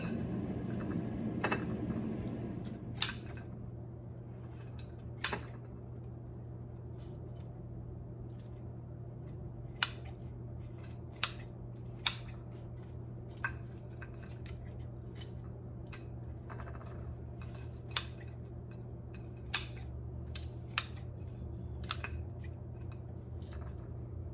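Scissors snip through burnt air-fried beef in sharp, isolated clicks spaced a few seconds apart over a low steady background hum, with no talking.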